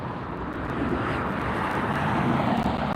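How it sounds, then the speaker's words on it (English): A SkyWest charter CRJ regional jet comes in to land at LAX, its steady broadband engine roar heard from a distance and holding an even level throughout, with no voices. "We have a SkyWest Charter CRJ coming in."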